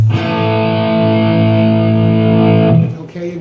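Distorted electric guitar sounds sustained, ringing power-chord tones through an effects chain in a riff, held steadily before breaking off into a muted scratch and a shorter chord near the end.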